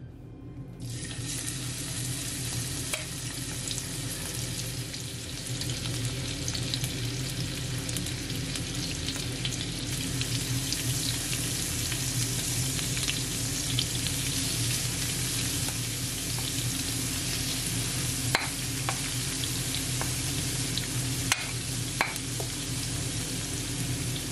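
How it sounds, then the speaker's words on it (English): Seafood frying in hot oil for chow mein: after a brief quiet start, a loud steady sizzle rises and holds for over twenty seconds, dense and hissing, with a few sharp pops and crackles near the end and no voices. "I'm gonna add all my seafood. Just make sure your oil is heated up"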